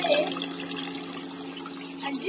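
Water steadily trickles and flows back down into the reservoir container of a small hydroponic model at a children's science exhibition, a continuous close wash of liquid with a faint hum beneath and some speech mixed in.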